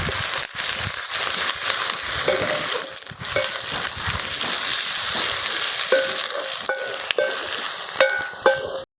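Curry leaves and rampe (pandan) dropped into hot oil for a Sri Lankan feast meal, giving a loud, continuous crackling sizzle with sharp pops and spatters throughout, no talking.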